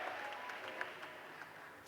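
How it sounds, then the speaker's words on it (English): Steady applause from an audience at a college commencement ceremony, a dense wash of clapping that holds at an even level for about two seconds. "Please give them another round of applause"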